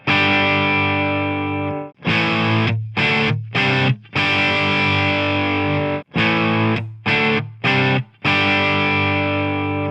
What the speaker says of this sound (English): Listen to how much more saturated the Tonex pedal sounds.